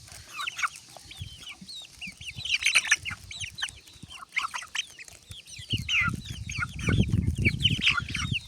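Chickens and chicks cluck and peep close by as they peck at corn, a busy overlapping chorus of short calls with soft scratching and pecking sounds below, growing denser toward the end.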